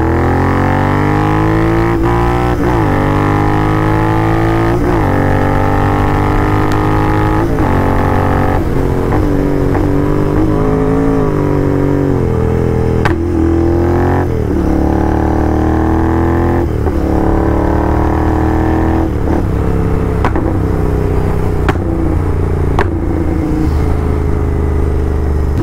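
A Royal Enfield GT650 motorcycle engine with about 30,000 km on it idles and is revved repeatedly, loud and close, rising and falling in pitch with sharp throttle blips.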